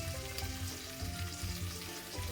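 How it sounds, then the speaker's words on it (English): Gungo peas and rice cook in a pot, giving a faint, steady sizzle and bubbling. A spoon stirs through the grains now and then, soft and close, with no voices. "every 10 minutes you stir your rice, and so that all the grains will cook evenly"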